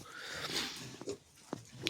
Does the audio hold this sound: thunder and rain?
no